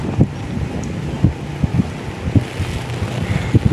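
Strong wind buffets the microphone in low, rumbling gusts, with irregular thumps and a steady roaring background and no talk.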